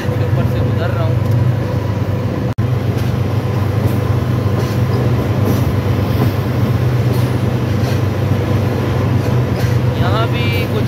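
A train rumbles steadily across a railway bridge in Meerut, a loud continuous clatter and roar heard from on board.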